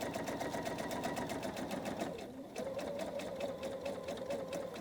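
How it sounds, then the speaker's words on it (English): A sewing machine stitches quilt rows together in a fast, steady run of needle clatter, with a short slowdown midway before it picks back up at the same even pace. "I'm just going to stitch on through"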